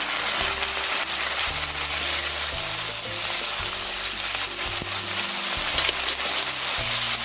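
Hot water hits potatoes frying in a pan for Bengali aloo posto, giving a loud, continuous hissing sizzle that holds steady throughout, with faint background music underneath.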